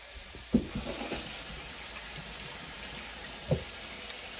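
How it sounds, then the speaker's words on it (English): Tap water runs steadily into a kitchen sink while hands are washed beneath it, a constant near hiss broken by a few soft splashes and knocks, no voices. "Let me wash my hands real quick."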